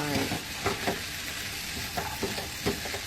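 Shrimp stir-fried with shrimp paste and salt in a pan, a steady loud sizzle broken by several quick scraping stirs of the spatula, with no talking.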